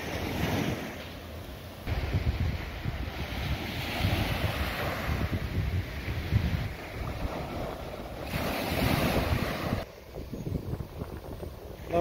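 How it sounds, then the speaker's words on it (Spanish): Sea waves roll onto an empty beach at Playa Sosúa, surging and receding in broad washes with heavy wind buffeting the microphone. "Podemos escuchar con tranquilidad el sonido de las olas del mar."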